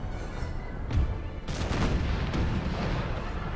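Cannon fire rumbles across an Empire 2 video game battlefield, with booming volleys and sharp reports overlapping into a continuous, thunderous barrage near and far.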